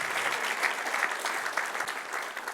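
A church congregation applauds together in a steady, dense patter of many hands clapping, sustained throughout at moderate distance.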